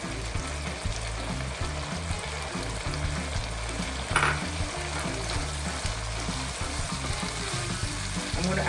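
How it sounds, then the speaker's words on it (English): Onions sizzle and crackle in hot oil in a pan, a steady, close, dense frying hiss that runs throughout with small stirring clatters and a brief spatter midway. "Now I'm going to add the onions."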